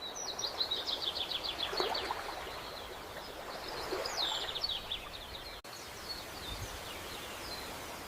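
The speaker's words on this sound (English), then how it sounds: "Birds sing softly in the distance." Soft, distant birdsong with faint chirps and tweets over a steady rustling, stream-like outdoor hush; no voices.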